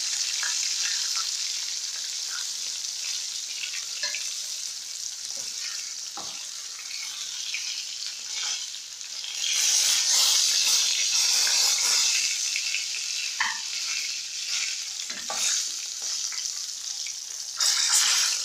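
Fish frying in hot oil for a crispy fried fish dish, a loud steady hiss that swells into a stronger crackling sizzle partway through, with a few brief knocks of utensils.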